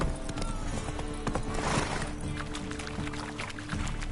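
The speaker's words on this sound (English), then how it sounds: "Whoa there, Roach. Go, go." Horse hooves clip-clopping at a steady run in The Witcher video game on PS4, a continuous rhythmic patter under game music and ambience, with no clear speech.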